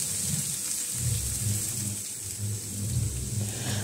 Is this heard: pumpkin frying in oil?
yes